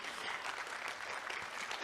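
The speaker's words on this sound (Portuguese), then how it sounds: "Uma salva de palmas para o Josimar." An audience at a gastronomy trends event claps for a guest named Josimar, a steady dense round of applause lasting the whole moment, somewhat distant and moderately quiet, with no talk over it.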